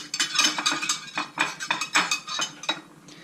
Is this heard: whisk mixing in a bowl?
yes